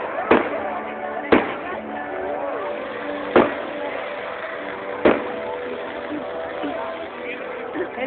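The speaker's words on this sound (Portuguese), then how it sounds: "Ele tá encantado com os fogos." Fireworks at a São Pedro bonfire festival pop in four or five sharp, loud bangs spaced a second or more apart, over a steady background murmur of a crowd outdoors.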